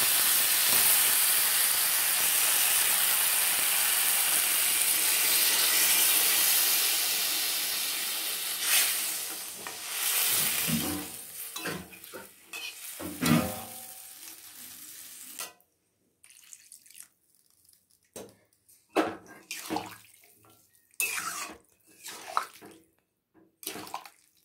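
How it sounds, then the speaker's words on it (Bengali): Water poured into a pan of frying kohlrabi and vegetables sets off a loud, steamy hiss that fades over several seconds, followed by softer bubbling and scattered clinks. "সবজির মধ্যে জলটা দিয়ে দেবো।"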